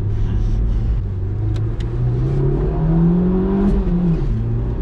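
A 1992 Citroen ZX 1.4i with a 75 hp petrol engine accelerating at full throttle in city driving, a steady loud droning rumble whose pitch climbs, drops briefly at a gear change, then rises again.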